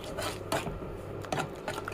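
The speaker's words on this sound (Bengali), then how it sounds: "এখন এটা ভালো করে নেড়ে চেড়ে নিতে হবে।" A spoon scrapes and stirs mustard eggplant curry with chili, coriander powder and salt in a cooking pan, producing a steady close rubbing and scraping with soft repeated strokes.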